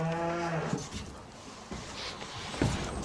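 Cows in a cattle shed low in a drawn-out moo at the start, followed by shorter, lower grunting moos from the herd, near and clear against quiet shed ambience.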